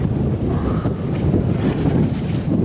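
Strong wind on a hillside buffets the microphone with a continuous loud, rumbling roar that rises and falls in gusts, with nothing else audible.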